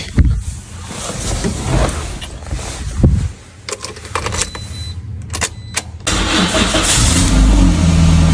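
A car engine cranks and catches, with a few sharp clicks and clunks during the attempt, then settles into a loud, steady idle close by, heard without speech.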